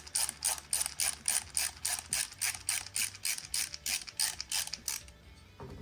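A Daiwa Tournament S6000T fishing reel clicks as it is tightened, producing a close, steady train of rapid ratcheting clicks in an even rhythm that stops near the end.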